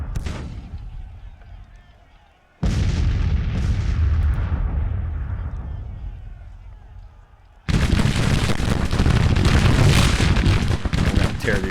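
Artillery and musket volleys from a Civil War battle in the strategy game Grand Tactician: the Civil War: three heavy booming bursts, each followed by a long rumbling decay, the last one a dense crackling fusillade, loud and close.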